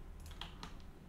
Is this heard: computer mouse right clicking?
yes